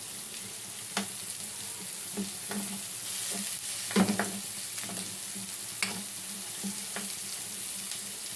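Food sautés in a pan with a continuous sizzle, broken by sharp clatters and scrapes of stirring at irregular intervals, close and fairly loud, with no talking.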